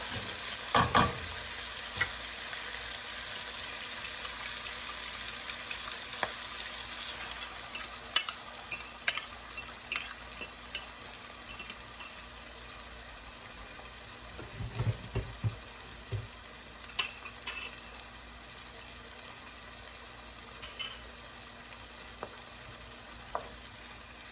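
Onions and tomatoes fry for noodles in a pan with a low, steady sizzle, while a utensil clicks and scrapes against the pan at scattered moments.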